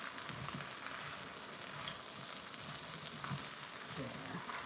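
Vegetables for a kielbasa soup sizzle and sauté in a pot, a steady close frying crackle with occasional stirring scrapes and no talking.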